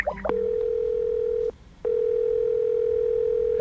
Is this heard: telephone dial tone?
yes